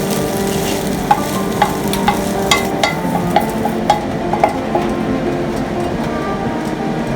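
Fried rice is stir-fried in a pan on high heat, a strong continuous sizzle broken by sharp utensil scrapes and clinks at a steady, roughly half-second rhythm, with no voices.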